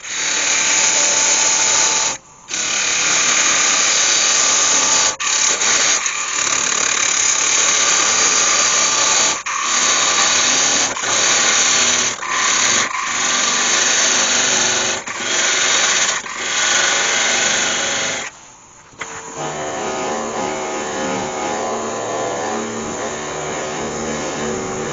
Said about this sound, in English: then I can put the buffing wheel in the lathe and buff all that up by hand.